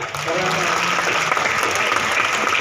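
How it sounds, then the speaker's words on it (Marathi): Audience applause fills a theatre during the introduction of a Marathi play at Kalapini Natya Sankul in Talegaon Dabhade, a dense, sustained clapping that stays loud and steady throughout. "एकदा सगळ्यांसाठी जोरदार टाळ्या"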